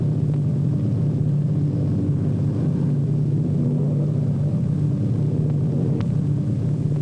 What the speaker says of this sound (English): Our pilot brings his plane in to a smooth landing.